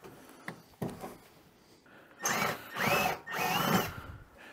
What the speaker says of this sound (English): Now we need to back drill through some of these holes.